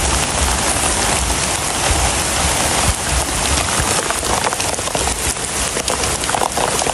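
Heavy rainwater after Typhoon Yagi, a dense, steady hiss of rain and running water pouring out of a house, loud and continuous with no pauses.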